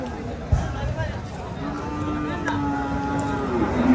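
A Holstein Friesian bull lows with a drawn-out, moderately loud moo at a busy Comilla cattle market, under the chatter of nearby voices and crowd bustle.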